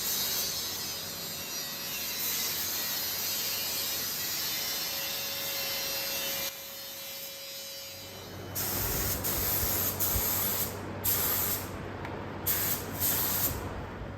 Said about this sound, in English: Now we just start the long process of tacking her back in.